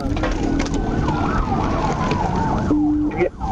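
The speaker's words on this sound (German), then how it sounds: "schalteten ihre Blaulichter und Sirenen ein" Police car sirens wail loudly during a high-speed chase, rising and falling in a sweeping tone over engine and road noise, with a brief sharper yelp pattern near the end.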